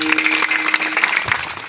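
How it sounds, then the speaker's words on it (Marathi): An audience claps together at a devotional kirtan during a Balumama palkhi gathering, a short, dense burst of applause with a faint held tone beneath it. "टाळ्या वाजवा सगळं"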